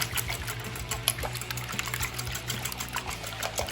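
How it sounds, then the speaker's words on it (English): Beaten eggs stirred briskly in a bowl for an omelette, giving a steady, fast wet clicking and sloshing that runs continuously at close range over a low background hum. "Now, mixing this up, you want to make sure all those yolks are broken"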